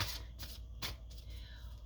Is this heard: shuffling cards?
yes